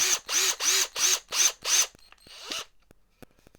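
Screws are driven into a guitar built from junk, six quick whirring bursts with ratchety clicks, followed by a softer rasp and a few faint taps.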